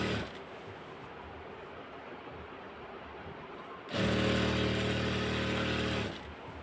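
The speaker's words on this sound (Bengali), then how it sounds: "আমি খোলা রেখে সেলাই করতেছি" A sewing machine stitches a petticoat seam, running in a loud steady burst for about two seconds after quiet handling noise, its hum carrying a regular mechanical buzz.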